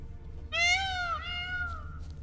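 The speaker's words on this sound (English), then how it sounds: "Wow, that's the peacock sound?" Peacock call in The Witcher 3: Blood and Wine, a single loud, rising then falling cat-like wail lasting over a second, clear and close against a low ambient hum.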